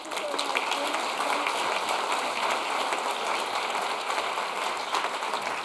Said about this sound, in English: A big round of applause for EVP Šefčovič